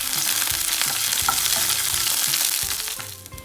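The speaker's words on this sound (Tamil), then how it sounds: "கடலைப்பருப்பு கொஞ்சம் பொரிஞ்சிருச்சு" Chana dal, urad dal and dried red chilies frying in oil, a loud close sizzle with stirring clinks, steady then tapering off slightly at the end, no voices.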